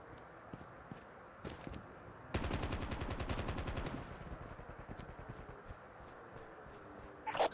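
Rapid burst of automatic gunfire in a Call of Duty battle royale match, a dense rattling volley lasting under two seconds amid faint game ambience and scattered footsteps, with a sharp effect near the end.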